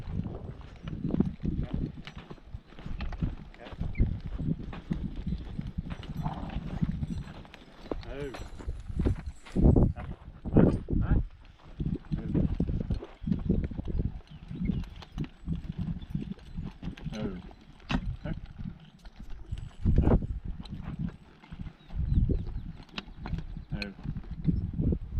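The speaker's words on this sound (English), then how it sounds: "slid the Belgians over, so it was Ken, Lady, Bill, and Buck." Belgian draft horses walk in a team, their hooves clip-clopping in a steady, uneven rhythm of close, loud thuds while someone talks over them.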